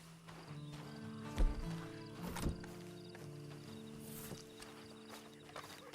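Horse hooves clop in a loose, uneven rhythm over a low steady hum in the video game Red Dead Redemption 2 Online, with a couple of louder thuds near the start.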